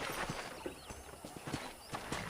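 Horse hooves clip-clop at a steady walking rhythm in the Red Dead Redemption video game on PS3, a quiet and fairly close series of hoof strikes with faint ambient background.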